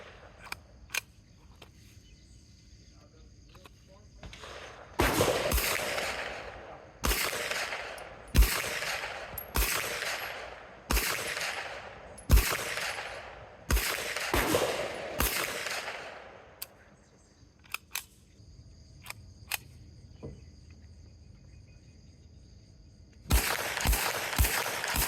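A 9mm blowback prototype rifle fires at an outdoor range: about nine sharp shots at a steady pace with brief echoing tails, then a quiet pause before another shot near the end.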